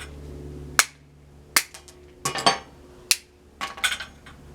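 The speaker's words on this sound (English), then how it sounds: "Hammer." Sharp metallic hammer blows strike a part on a log splitter, landing in irregular single and clustered hits with quiet gaps between, close and fairly loud, with no talking.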